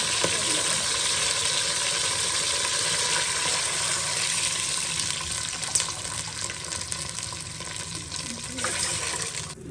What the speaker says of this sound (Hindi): इसमें मैं अब पानी डाल दूँगी।